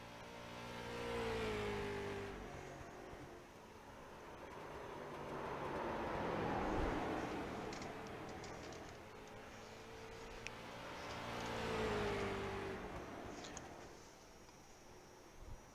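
A race car on track during qualifying at North Wilkesboro, its engine roaring louder and fading away in repeated passes, with a steady mechanical drone between them and no talk.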